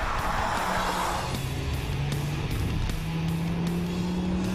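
A production Volvo S60R with 300 horsepower and all-wheel drive is driven hard on a race track, its engine note droning and rising steadily through gears, loud and close, with no voices.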